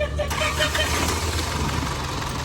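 An Isuzu D-Max pickup's diesel engine cranks and catches, settling into a loud, rough idle close by, with a low rumbling throb throughout.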